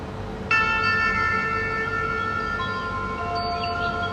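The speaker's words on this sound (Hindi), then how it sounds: "तो शंखनाद आप सुन सकते हैं।" A Gita device plays a shankhnaad conch call, a sustained, steady and loud tonal blast that starts abruptly and holds without a break. It rings over a constant background hum.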